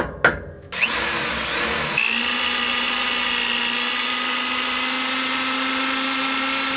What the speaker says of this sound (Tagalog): Subukan ko siyang drillan ng ganito